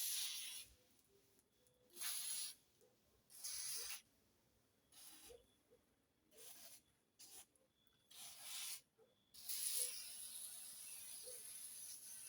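An aerosol sprays onto the engine of a 15-year-old RC airplane being refurbished, with repeated close hissing bursts of varying length and short pauses between them, ending in one longer spray.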